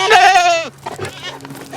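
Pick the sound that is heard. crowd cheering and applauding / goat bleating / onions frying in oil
goat bleating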